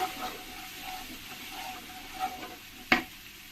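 Spice paste with taro sizzles softly in a pan while it is stirred and sautéed, close and fairly quiet. One sharp scrape or clack of the spoon sounds near the end.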